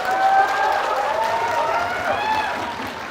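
Applause from a debate audience on Islam versus atheism, a dense wash of many hands clapping that swells then gradually fades, with a voice speaking over it.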